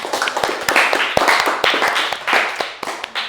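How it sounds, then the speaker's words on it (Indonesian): A classroom of students claps for a classmate, with sharp, uneven individual hand claps overlapping into a loose, irregular round that rises and falls. "Beri tepuk tangan buat Aulia."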